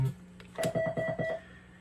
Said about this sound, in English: This one's directly connected to the router, so I can do 800 from here.